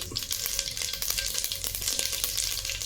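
Mustard seeds and asafoetida frying in hot oil for sambar, a dense continuous sizzle with rapid popping crackles close by.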